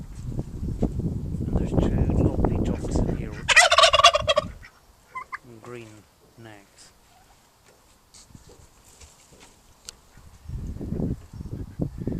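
Turkeys gobble in a loud, fluttering burst at an outdoor folk park on Burns Night, with people talking before and after it.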